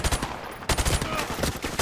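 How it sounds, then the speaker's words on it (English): Rapid automatic gunfire from Call of Duty 4: Modern Warfare, dense bursts of shots with a brief gap partway through, loud and close, with no talking. "automatic gunfire and explosives going off tend to do that kind of thing"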